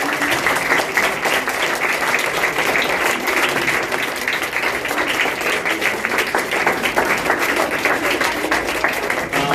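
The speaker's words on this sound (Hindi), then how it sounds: "आप सब खड़े होकर अपनी मम्मियों के लिए ताली बजा सकते हैं" Sustained applause from a large standing church congregation, dense and loud throughout without pause.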